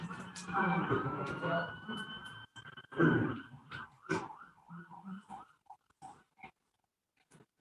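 During a township council meeting, a siren wails at a distance, rising and falling steadily, while a voice speaks nearby over it, fading toward quiet at the end.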